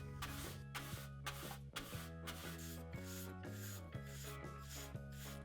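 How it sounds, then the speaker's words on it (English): A brush sweeps dust off the internals of an Xbox One in repeated quick scrubbing strokes, close and crisp, in a steady rhythmic pattern with no talk. "Use a brush to remove dust and dirt"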